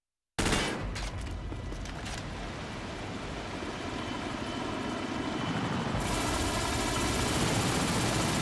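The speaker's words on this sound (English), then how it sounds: "Friendly helicopter on the way." A helicopter from a Nintendo Wii shooter game drones loudly and continuously, with busy gunfire-like crackle in the first seconds and a steadier rotor and engine roar later on.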